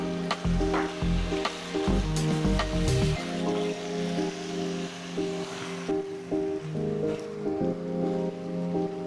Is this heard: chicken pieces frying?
yes